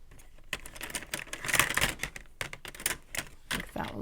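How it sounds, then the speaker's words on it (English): Decorative-edge craft scissors snipping paper for a journal pocket folio, a quick run of close crisp cutting clicks and rustles in uneven bursts. "I've got these scissors that cut fun edges"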